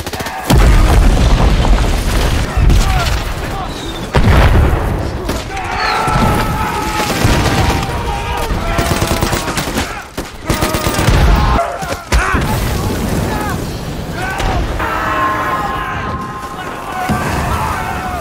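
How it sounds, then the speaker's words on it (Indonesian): Booming explosions and bursts of gunfire from a war film set in a battle between American and Japanese troops, with a dense, loud barrage of blasts and shots continuing throughout, and some voices mixed in. "tentara Amerika pun berhasil menyerang mereka semua dengan tembakan dan berhasil membobol pertahanan lawan"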